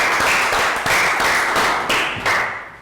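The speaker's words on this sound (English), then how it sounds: "Round of applause." A small class claps in unison in a round of applause, a series of about six rhythmic bursts of clapping, close and fairly loud, fading out at the end.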